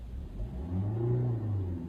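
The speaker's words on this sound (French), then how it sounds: "Vous allez passer la première et vous allez avancer." A car pulling away in first gear during a driving test, its engine rising in a low, swelling rev from near by before easing off, with no talking.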